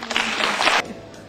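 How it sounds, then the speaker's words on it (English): Children clapping together in a short burst of applause lasting under a second, fairly close and lively, then cutting off into quiet room sound. "you clap for Apple"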